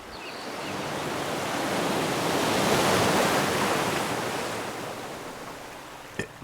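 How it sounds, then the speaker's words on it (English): A single ocean wave surges in, its hissing wash swelling to a peak and then slowly receding, followed by a brief knock at the very end. "It's the ocean waves crashing."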